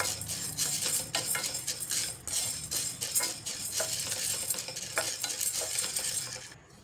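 Dry cowpeas roast in a pan for thalipeeth flour, a gritty rustling sizzle with rhythmic scraping and rattling strokes of a spatula stirring the grains, close and steady, without voices.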